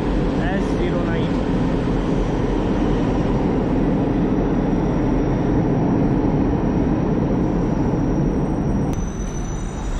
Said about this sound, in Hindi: यहाँ की लोकल ट्रेन है ये